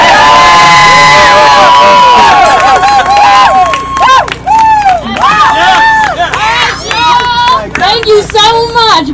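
A large crowd at an Occupy Detroit May Day rally cheers, whistles and shouts loudly and continuously, with clapping and excited voices mixed throughout.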